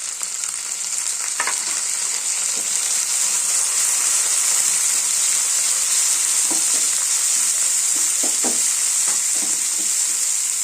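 Cut tomato added to a hot frying pan and stirred while cooking a dill-leaf palya, a steady loud oil sizzle throughout with a few scraping stirs of the spatula, no voices.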